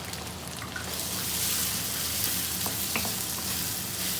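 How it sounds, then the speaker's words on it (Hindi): Minced lamb keema with cumin and ground red chilli sizzles and crackles in a pan, a close, steady frying hiss with occasional pops and light stirring. "मज़ीद भूनेंगे इसको"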